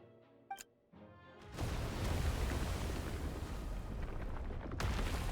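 Explosions in a video game: after a brief quiet moment and a short tone, a loud continuous rumbling blast of booming noise sets in and roars steadily for several seconds, with a fresh surge near the end.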